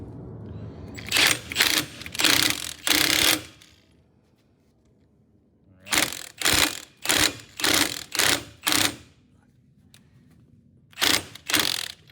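Wheel studs being installed into the rear disc brake hubs of a 1964½ Ford Mustang convertible during a rear disc brake conversion, heard as bursts of rapid mechanical clattering with quiet gaps between them.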